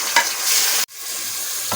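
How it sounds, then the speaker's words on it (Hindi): Minced meat dropped into hot oil with browned onions, a loud bright sizzle and stirring scrape, a sudden short cut, then steady frying hiss resuming with another scrape at the end, no talk. "बस अब हम कीमा डाल देंगे अपना।"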